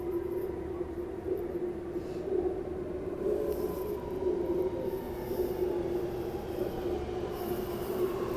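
Riding inside a driverless Sydney Metro train, a steady rumble and tonal motor hum persist throughout, with faint wheel squeal and airy cabin noise and no speech.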